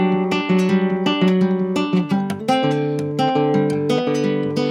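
Acoustic guitar played with Travis fingerpicking in a folk style, with an alternating bass under plucked treble notes, close and clear with no talking.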